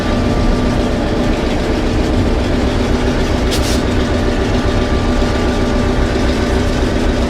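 Heavy locomotive rumbling steadily through a railroad crossing, a deep continuous engine drone with a sustained horn-like tone held throughout, loud and close with no talking.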